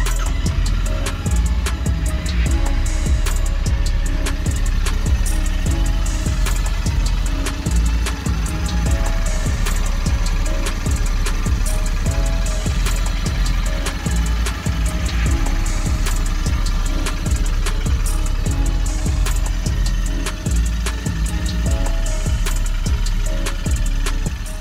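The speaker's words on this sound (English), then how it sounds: "Start the engine and check for any leaks." Royal Enfield 650 twin motorcycle engine idling steadily close by, a constant low throbbing rumble with no talk.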